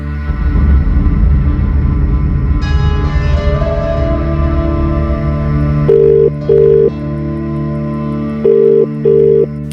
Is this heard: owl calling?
no